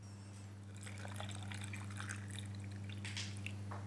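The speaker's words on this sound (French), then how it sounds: "On va pouvoir maintenant verser notre saumure." Brine is poured over chayote sticks packed in a jar, giving faint, close trickling and dripping splashes over a steady low hum.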